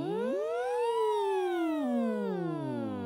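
Voices imitate a siren on a hummed NG sound, sliding smoothly up to a high peak and then gliding back down in one long continuous sweep, clear and sustained with no talk, during a youth theatre vocal warm-up.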